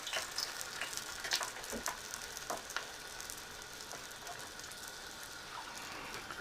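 Cheesesteak egg rolls frying in a skillet of hot oil, a steady soft sizzle with scattered crackles and pops throughout.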